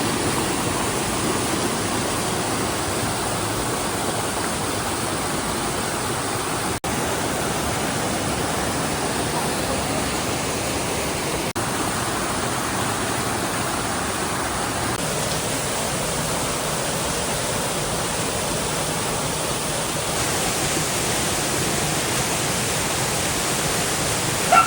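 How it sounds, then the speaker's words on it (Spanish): A hidden waterfall near a small Colombian village roars in a constant, dense broadband rush, close and unbroken throughout with no talking. "Y finalmente llegamos a la cascada, estaba medio oculta"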